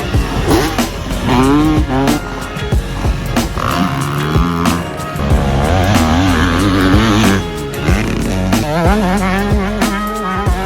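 A mini bike engine revs hard and repeatedly, its pitch rising and falling in loud, buzzy bursts close by, with no pauses through the stretch.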